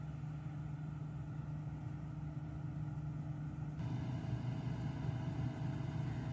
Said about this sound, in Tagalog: Kaya lang po, napakaingay niya. Ito po yung harvester machine, tawag sa English.